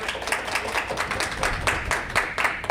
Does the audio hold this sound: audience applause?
yes